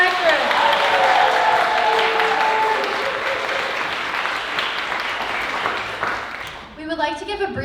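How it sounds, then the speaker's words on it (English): Audience applause at a school theatre show of student-written and student-directed plays, a dense sustained wash of clapping that fades near the end as a voice begins speaking. "let's give a big round of applause for all of our student playwrights and directors"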